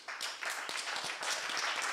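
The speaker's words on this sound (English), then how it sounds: "So round of applause for yourselves." Audience applause for speakers at a spoken-word event, a dense, steady wash of many hands clapping that holds at full strength for two seconds, with no voices rising above it.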